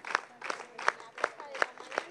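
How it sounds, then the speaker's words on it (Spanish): Crowd rhythmically clapping in unison outside on the steps of the municipal building in Olavarría, steady beats roughly every third of a second, moderately distant, with voices shouting between claps. "Las palmas y el grito de justicia"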